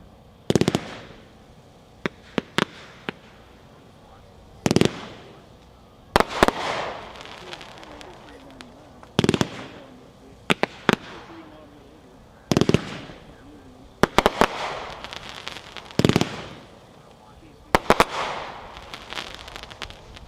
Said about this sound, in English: Number 6, Bowtie Blast by Mad Ox, packed 4-1, 25 shots